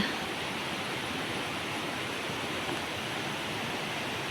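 Namtok Phlio waterfall in Chanthaburi, running high with plenty of water, gives a steady, dense rushing roar that holds even and unbroken throughout, with no voices.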